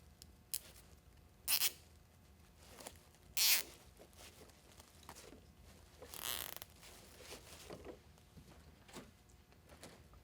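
Large plastic zip ties ratchet tight on a wreath ribbon rail, with several sharp zipping bursts close by, separated by quiet handling rustles.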